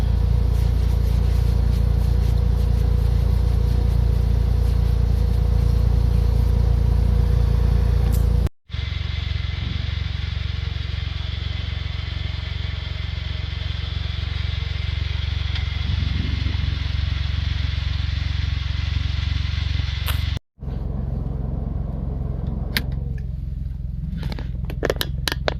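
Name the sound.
Smart ForTwo car engine running in winter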